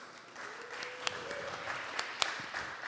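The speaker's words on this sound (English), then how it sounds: "Volunteers, round of applause" A small audience at a security meetup gives a light, scattered round of applause for volunteers. It is faint and somewhat distant, with a few sharper claps standing out and a murmur in the room.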